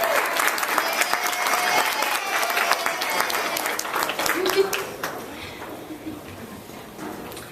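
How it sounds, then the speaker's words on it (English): Audience applause at an evening event, dense and steady clapping filling the room, then easing slightly toward the end as it continues. "let's give those people a round of applause"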